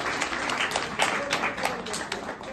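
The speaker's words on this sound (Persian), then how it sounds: "تشویق کنیم" An audience at a Hazara cultural celebration in Malmö applauds a sponsor with brisk, continuous clapping; a few voices carry faintly underneath.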